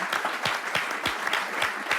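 An audience claps at a live stage show in France: a dense, steady round of applause with sharp individual claps, continuous for the whole stretch and fairly close.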